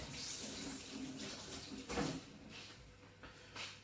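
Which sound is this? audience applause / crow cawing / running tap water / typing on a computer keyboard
running tap water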